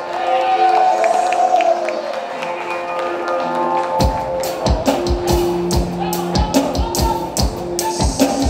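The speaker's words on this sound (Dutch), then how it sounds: "Mag ik een applaus?" A crowd at a VHP party meeting in Commewijne breaks into applause partway through, a dense patter of many hands clapping after a stretch of quieter murmuring.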